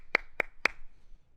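Three sharp hand claps come close together in a quick, even rhythm, each one crisp and near, followed by a brief quiet tail with no voices.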